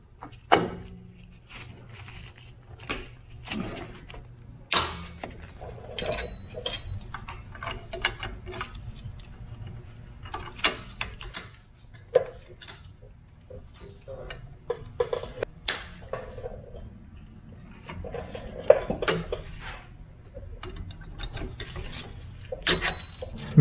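On a Nissan NV200, a rear drum brake shoe is shifted by hand, making close, irregular metallic clicks, taps and light scrapes from the brake hardware in a quiet space.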